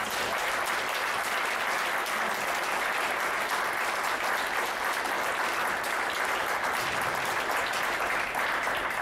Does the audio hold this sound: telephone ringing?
no